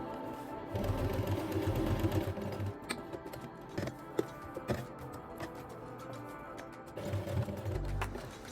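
A sewing machine top stitches pleats flat on a dress, running in close, steady bursts of rapid mechanical ticking with short pauses between runs.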